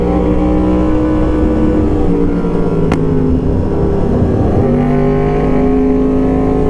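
A car is driven hard on a cold, wet hill road in Murree, its rear tyre sliding out on the bends; a loud, steady engine drone runs throughout, rising and falling with the throttle, up close.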